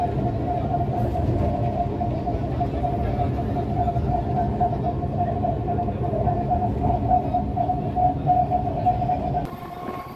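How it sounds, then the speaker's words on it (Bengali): Local passenger train on the Bardhaman to Howrah chord line running along steadily, a continuous rumbling roll with a sustained tonal hum, fairly constant in loudness before ending abruptly. "চলো, আমাদের ট্রেন এখন এসে গেছে।"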